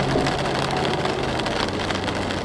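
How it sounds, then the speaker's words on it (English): Heavy rain pours down steadily outdoors, a dense, constant hiss of drops with a faint low engine-like rumble underneath, no voices present. "probably hear the rain."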